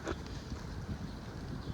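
Wind buffets a microphone outdoors in a container vegetable garden, a continuous low rumbling roar with small gusty swells, steady and fairly loud, with no voices.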